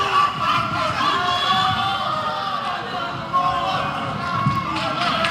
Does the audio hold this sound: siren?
no